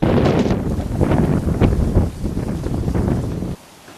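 Strong storm wind in Borçka, Turkey buffets the microphone with a loud, continuous roaring rumble, gusting unevenly before cutting off abruptly near the end.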